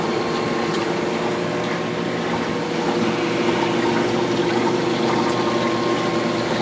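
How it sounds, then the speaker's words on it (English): Water steadily running and trickling through the wet-dry trickle filter of a 400-gallon bowfront saltwater aquarium, with a pump hum beneath. The flow is continuous and close, with no talk. "There's our wet-dry trickle filter."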